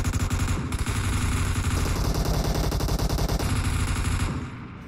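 Sustained automatic gunfire in the video game PUBG Mobile, a dense loud rapid rattle of shots continuing for several seconds before tapering off, no talk.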